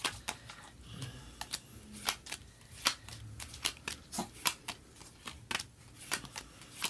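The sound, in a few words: shuffling tarot cards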